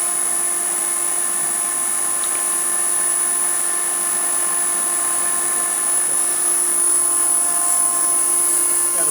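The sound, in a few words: Okamoto IGM-2M internal grinding machine wheel spindle running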